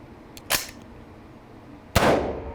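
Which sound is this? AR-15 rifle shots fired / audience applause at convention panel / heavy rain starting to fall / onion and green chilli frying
AR-15 rifle shots fired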